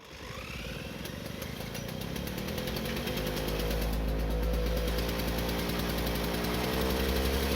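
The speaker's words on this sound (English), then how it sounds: "Okay, so the motor is running" A German military generator engine runs steadily after a carburetor repair, a loud, continuous, rapid mechanical putter close by with no talking.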